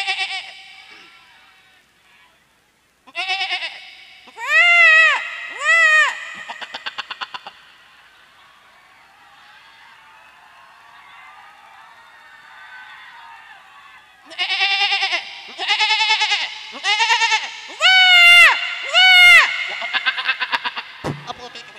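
A comedian imitates goat bleats with his voice on stage at a Rongali Bihu gathering, producing loud wavering bleats in two bursts separated by a quieter stretch of murmuring crowd.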